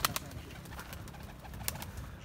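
Pigeons in a breeding loft give soft, low cooing calls, close and quiet, with a few sharp clicks and flutters over a steady background.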